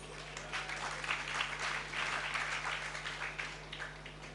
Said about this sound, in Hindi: अब बजा लो ताली जितनी बजाना हो